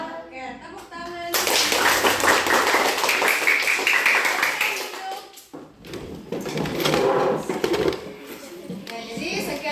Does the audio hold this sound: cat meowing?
no